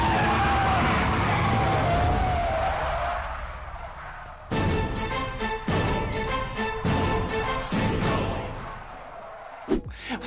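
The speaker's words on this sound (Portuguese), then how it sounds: "decide que é uma boa ideia derrapar seu carro e sair pela porta do motorista" A car skids and drifts during a Bollywood movie chase scene: a loud, sustained tyre screech fills the first few seconds, then gives way abruptly to a dense, rhythmic pounding that runs to the end.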